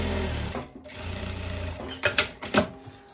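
A sewing machine stitches a seam along the neckline of a women's corset vest in short, close bursts, with a pause before quick runs near the end, and no talk.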